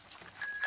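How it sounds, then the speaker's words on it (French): A bicycle bell rings briefly in a French-language Peppa Pig cartoon, a short bright double ding at moderate loudness with no talk over it. "Et ici la sonnette."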